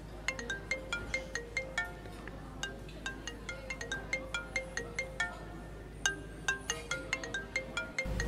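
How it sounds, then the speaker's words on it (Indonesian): A phone ringtone plays for an incoming call, a steady run of quick plinking electronic notes repeating in a bright, even rhythm, fairly quiet and alone. "Bos aku telepon."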